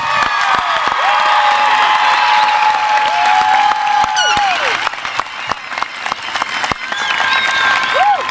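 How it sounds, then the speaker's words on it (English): Loud, sustained applause from a large crowd at a high school commencement ceremony, with scattered cheers and whoops, continuous throughout with whistles rising above the clapping. "One more big round of applause for the class of 2025."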